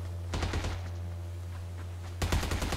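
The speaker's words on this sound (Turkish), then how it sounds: "Oğlum ben adama sıka sıka mermi gitti." Bursts of PUBG automatic gunfire in a game match: a rapid volley early on, a quiet stretch, then a second loud burst near the end, all over a steady low hum.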